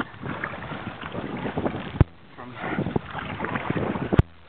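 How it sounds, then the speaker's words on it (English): Wind buffets a small boat at sea, a steady rushing roar with microphone wind noise and a couple of sharp knocks, while a voice speaks faintly beneath it. "And the wind's coming."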